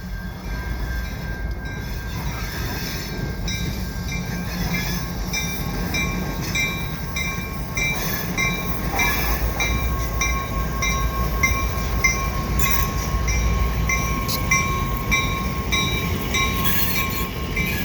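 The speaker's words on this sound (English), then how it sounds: "the GP38-2, and a CN, more recently repainted GP40-2W. Both vintage locomotives used mostly in shunting." Two vintage CN switcher locomotives, a GP38-2 and a recently repainted GP40-2W, roll past on a branch spur joining the mainline, a steady loud rumble of rail cars with faint high wheel squeal throughout.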